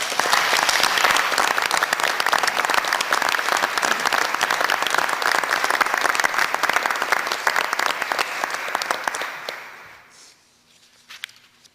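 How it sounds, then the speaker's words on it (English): A crowd claps steadily for about ten seconds, then the applause fades out into near quiet with a few stray claps. "let's give him a round of applause"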